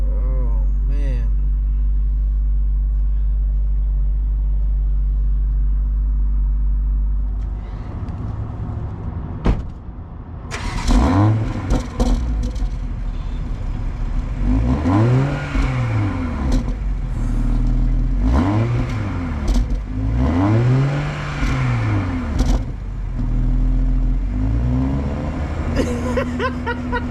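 A 2021 BMW X4 M40i engine revs hard several times in rising and falling sweeps over a steady idle rumble, loud and close, with a door-like clunk partway through and no talk over the revs.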